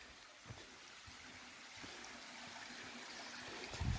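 Creek water trickling and gurgling along the Honey Creek Loop Trail in Big South Fork, a soft, steady burble close by with faint splashes, quiet and continuous without talk.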